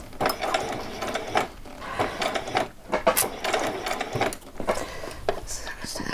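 A sewing machine runs in short bursts of rapid stitching along a narrow seam at the edge of an old dress, close by and fairly quiet, pausing briefly between runs while a person talks.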